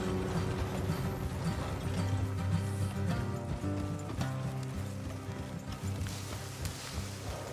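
Horse hooves clip-clop along a road in Red Dead Redemption 2, a steady rhythm under a dense bed of game music and ambience, with riders' voices faintly mixed in.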